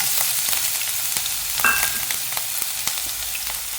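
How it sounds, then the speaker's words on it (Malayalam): Crushed garlic and ginger hitting hot coconut oil for a crab masala, giving a steady close sizzle and fry with a brief sharper burst as they go in, with light stirring scrapes throughout. "വെളിച്ചെണ്ണ ഒന്ന് ചൂടായി വരുമ്പോൾ നമുക്കതിലേക്ക് ചതച്ച് വെച്ചിരിക്കുന്ന വെളുത്തുള്ളിയും അതുപോലെ തന്നെ ഇഞ്ചിയും ചേർത്ത് കൊടുക്കുന്നുണ്ട്."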